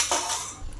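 A lid goes onto a cooking pot of khichuri. A single short metallic clink and scrape is heard close up, with no talk.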